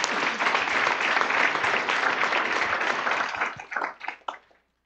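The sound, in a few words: audience applause at Latin Chamber luncheon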